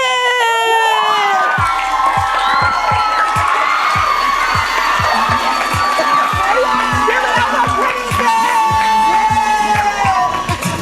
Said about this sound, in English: That was a big round of applause.